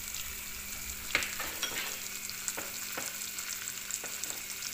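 Red onions fry in hot oil for a Filipino chilli garlic oil, a steady close sizzle broken by occasional soft stirring scrapes and pops.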